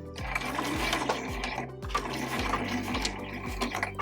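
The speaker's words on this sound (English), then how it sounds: "I'm going to be stitching my scraps with a 1/4 inch seam allowance." A sewing machine runs in short repeated bursts while stitching fabric scraps together with a quarter-inch seam for a fabric heart ornament. Each run of stitches is close and rhythmic, separated by brief pauses, and no one speaks.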